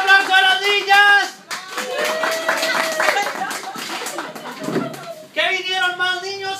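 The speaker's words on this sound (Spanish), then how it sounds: "Un aplauso a los niños." Children clapping at a clown's party show, a burst of applause mixed with voices and shouts, rising and falling over several seconds with speech around it.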